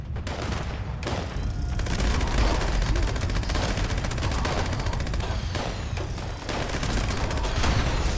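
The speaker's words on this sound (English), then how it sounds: "Who's shooting my dude?" Sustained loud gunfire in a mining-themed video game, dense rapid shots and bursts rattling almost continuously with brief dips, with no clear talk over it.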